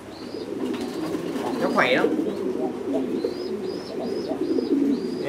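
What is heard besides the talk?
Thai Titan pigeons cooing on a pigeon farm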